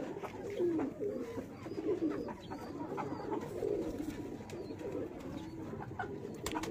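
Several high-flying pigeons coo continuously near at hand, their soft throaty burbles overlapping in an even, unbroken chorus without any speech.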